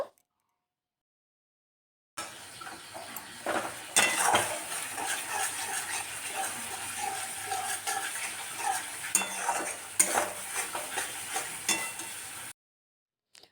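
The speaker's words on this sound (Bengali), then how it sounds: "এবার ভালো করে মশলাটা কষিয়ে নেব" Masala with Kashmiri chili powder and salt is sautéed in a pan, a spoon scraping and clinking against the metal over a low sizzle, steady and close throughout.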